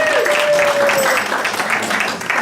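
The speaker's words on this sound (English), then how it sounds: "Let's another round of applause for our Joy Singers." A church congregation applauding the choir at a Sunday service, a dense, steady wash of clapping from many hands that fades slightly toward the end, with a brief tonal whine at the start.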